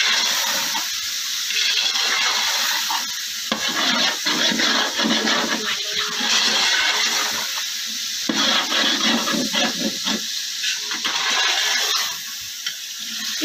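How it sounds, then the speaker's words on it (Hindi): Water gushes and splashes steadily into a large cooking pot of pulao, a continuous loud pour with bubbling and sloshing that dips briefly between pours. "थोड़ा सा पानी डाल।"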